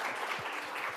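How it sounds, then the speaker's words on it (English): Brief applause from an audience thanking the judges at a law school judicial heritage celebration, a continuous wash of many hands clapping at moderate distance. "Let's give them a round of applause."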